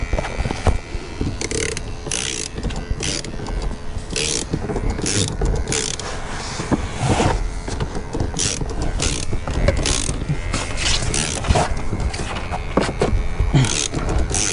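A windshield being cut out of a 2015 BMW M235 with a cutting tool run through the corner and up the pillar, giving a steady stream of ratcheting, creaking mechanical clicks and pulls throughout, close and fairly loud.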